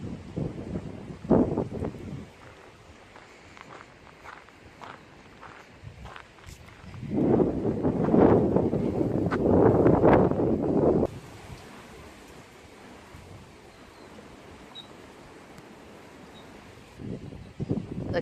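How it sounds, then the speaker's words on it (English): Gusty wind rumbles and buffets the microphone outdoors at Warm Springs Natural Area, Moapa, Nevada, swelling into a stronger, louder rush midway before easing back to a steady low blow. "Look how windy it is."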